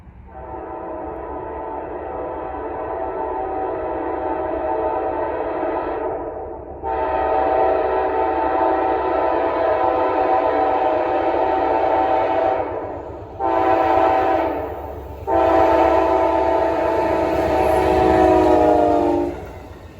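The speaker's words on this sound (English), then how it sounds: "Shortly after, another southbound Amtrak." A southbound Amtrak Palmetto passenger train rolls past on the Northeast Corridor, sounding a loud, sustained horn in several long blasts with brief gaps, over the steady rumble of the rails and cars.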